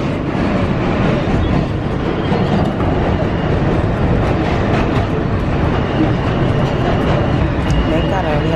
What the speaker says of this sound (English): Thank God I only have to be on this train for one stop and it's here now.